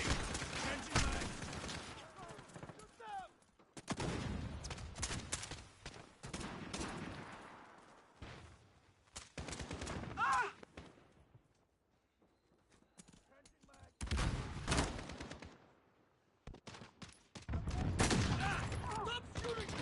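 Bursts of automatic gunfire and rapid shots rattle through a Modern Warfare firefight, coming in loud clustered volleys separated by short lulls, with voices calling out over the shooting.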